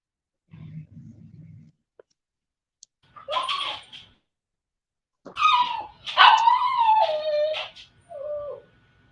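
Dogs bark and howl in loud, close bursts, with a low growling start, then a short yelp, then longer drawn-out howling barks separated by brief silences.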